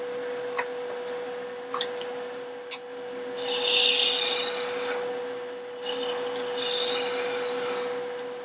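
Wood turning on a lathe with a roughing gouge, a steady motor hum beneath occasional ticks and then two longer stretches of close, rasping cutting.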